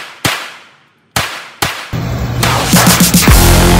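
Gunshots fired in pairs at an American shooting range: sharp, loud reports with decaying echoes, three distinct bangs early on, then a dense burst of rapid shots layered over steady background noise.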